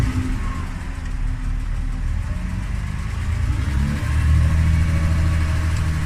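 A 1969 Mercedes Unimog's engine drones loud and close as it reverses, a steady low rumble that rises slightly in pitch and strength toward the end.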